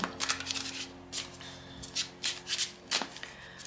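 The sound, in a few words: Symbolon cards being handled for a card reading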